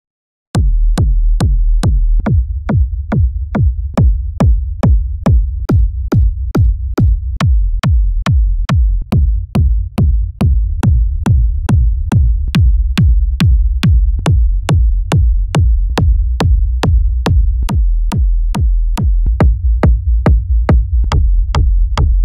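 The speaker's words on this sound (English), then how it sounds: "I got those 15 kick drums that sounds like this." A long run of punchy, booming kick drum hits, each struck alone at a steady pace, loud and dry with no voices.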